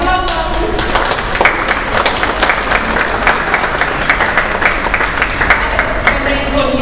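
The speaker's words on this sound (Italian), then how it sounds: "Quindi un applauso a tutti." A hall audience at a choral music event applauds loudly and steadily, close and full, with sharp individual claps standing out from the dense crowd sound throughout.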